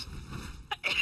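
A person sneezes at a desk during a League of Legends gaming session: a sharp, close burst near the end, preceded by a brief intake of breath.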